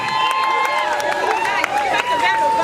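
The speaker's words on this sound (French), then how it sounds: "Est-ce qu'on peut applaudir? Est-ce qu'on peut faire du bruit?" Wedding guests at a customary marriage ceremony clap and cheer together in a steady, crowded burst of applause with excited voices mixed in, filling the room for a couple of seconds.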